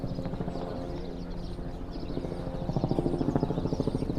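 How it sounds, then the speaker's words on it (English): A helicopter flies overhead in Central Park, Manhattan, its steady rotor thump rolling continuously beneath the open-air ambience and swelling slightly louder toward the end. "Helicopter above us."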